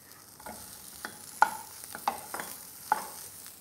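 Tomatoes and Kashmiri chili powder stirred in a hot pan, with a soft steady sizzle broken by several sharp spoon scrapes and taps at an irregular pace, close by and without speech.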